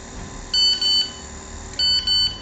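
Two pairs of sharp, high electronic beeps from a microcontroller confirming a received message, each pair a quick double chirp, loud and clear against a quiet background hum.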